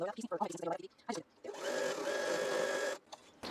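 A sewing machine with a quarter-inch foot chain-pieces quilt blocks, running in a steady close whirring burst for about a second and a half after someone speaks briefly.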